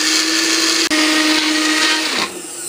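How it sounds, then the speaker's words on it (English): An electric spice grinder whirs loudly, grinding ingredients that include apple, as one continuous high motor drone up close. It cuts out briefly near the start and its pitch drops as it winds down at the end. "This little rice or our spice grinder did a good job."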